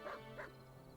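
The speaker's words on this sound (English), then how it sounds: "We can make it bark." A dog in the Tales of Arise video game gives two short bow-wow barks close together near the start, then quiet game ambience with no talk.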